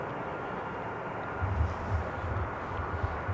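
TUI Boeing 787 Dreamliner arriving at Amsterdam Schiphol on runway 18R, a low distant engine rumble that swells slightly midway, steady and unaccompanied by voices.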